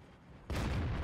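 A Centurion tank's main gun in World of Tanks fires once, a sudden loud boom that cuts in abruptly after near-silence and rumbles on without fading.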